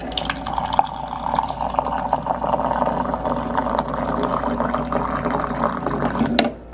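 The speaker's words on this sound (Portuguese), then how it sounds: "água quente eu coloco aqui no meu filtro" Hot water poured from close by into a coffee filter, a steady liquid splash and fill running for several seconds with no talking.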